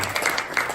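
A short burst of audience applause at a Christian business gathering in Milan, with dense, close clapping filling the brief moment and no talking over it.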